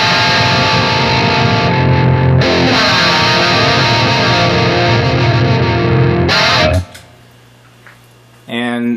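Electric guitar through a Wampler Triple Wreck pedal set for an old-school classic rock tone, with the bass trimmed, plays loud, driven, sustained chords for about seven seconds before dropping to a faint hum and a short final strum.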